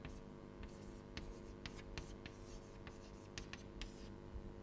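Chalk or marker taps and scratches across a lecture board as a differential equation is written: short, quiet strokes in an irregular rhythm over a faint room hum.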